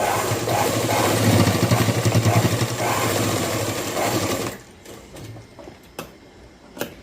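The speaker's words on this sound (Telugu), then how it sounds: "మళ్ళీ ఇంకొక కుట్టు అయితే బలంగా అయితే వేసేసుకున్నాము." A sewing machine stitches a boys' school uniform shirt with a loud, steady, close mechanical whir for about four seconds, then stops and leaves faint handling clicks.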